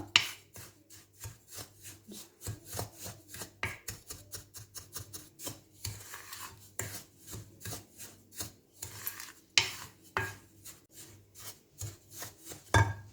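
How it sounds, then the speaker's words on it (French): A wooden spoon stirs semolina and sugar for harcha dough in a bowl, giving a steady rhythmic scrape and rasp with a soft knock on each stroke, close up and alone. "à l'aide d'une cuillère en bois, on va mélanger tout ça"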